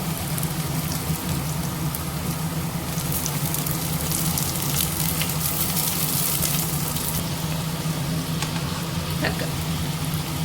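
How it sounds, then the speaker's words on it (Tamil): Onion and garlic sautéing in a pan as the base for prawn curry, a steady, even sizzle and crackle running throughout with no breaks. "வெங்காயம் பூண்டு நல்லா வதங்கிச்சு"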